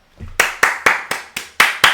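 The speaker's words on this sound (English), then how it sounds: "give Denmark a big round of applause" Seven sharp, evenly spaced hand claps ring out close and loud, a steady rhythmic round of applause after a faint low rumble, cheering Denmark in a World Brawl tournament.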